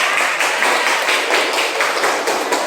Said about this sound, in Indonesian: Ya, tepuk tangan untuk kelompok 4 ya.